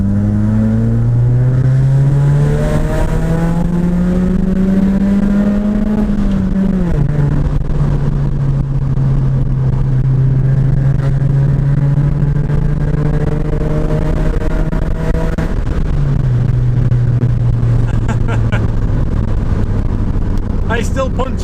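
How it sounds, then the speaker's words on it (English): A Honda Civic Sport EP2 engine revs up loudly from inside the car, its pitch climbing steadily into VTEC before dropping at a gear change and holding, then shifting again, with someone talking over it. "You hear it get into Vtec, you just get a little bit more excited."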